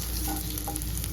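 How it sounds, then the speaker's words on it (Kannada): Onions sizzling in hot oil in a pan while paneer butter masala is being cooked, a steady close crackling hiss with faint stirring and no talk. "ಆನಿಯನ್ ಕಲರ್ ಚೇಂಜ್ ಆಗಿ ಚೆನ್ನಾಗಿ ಫ್ರೈ ಆಗ್ತಾ ಇದೆ"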